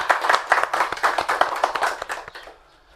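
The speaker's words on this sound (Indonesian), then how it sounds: "Tepuk tangan buat Iwayan Gede Adriana." A room full of people applauds a guest speaker being introduced at a talk about saving bees, with dense, close clapping that holds steady for over two seconds and then quickly fades out.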